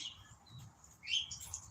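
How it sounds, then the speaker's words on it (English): Birds at a feeder outside a house porch: a few short, high chirps and tweets, moderately close, with a brighter burst partway through and a quiet outdoor background. "We got the birds at the feeder."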